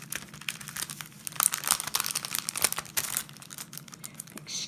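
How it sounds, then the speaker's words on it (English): Paper packaging crinkles and rustles up close in a steady run of crisp, uneven bursts while something is pulled free of it. No voices. "Excuse the rustling."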